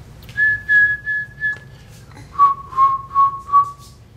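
A person whistles alone: a long held note that glides down, then four short chirping whistled pulses in quick rhythm.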